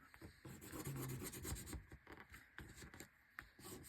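A transfer being rubbed onto a handmade card, a faint, continuous dry scratching and rasping of the burnishing tool over paper, close and quiet, with no talk.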